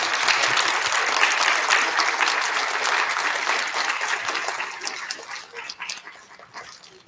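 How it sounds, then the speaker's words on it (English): A school audience claps for first graders at an elementary student recognition assembly, a steady, dense round of applause that gradually thins and trails off into scattered claps. "Can we have a round of applause for all of our first graders?"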